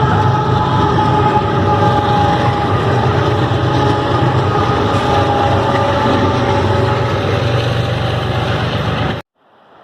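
A train rolls past close by as a loud, continuous rumble with steady tonal hum, holding for about nine seconds before cutting off abruptly.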